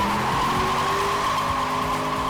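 A naturally aspirated Shelby Mustang GT with Baer Sport Touring ceramic brake pads brakes hard from 100 mph to a stop on a test track, its tires squealing in a loud, sustained tone over steady road rumble.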